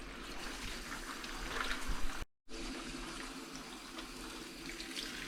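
Kale leaves are washed under running water, a continuous close splashing and trickling that cuts out for a moment and then resumes.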